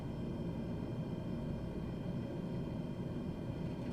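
A small propeller airplane taxis and turns on a mountain runway, its engine a steady, continuous low drone with broadband rumble that stays close and unchanging throughout.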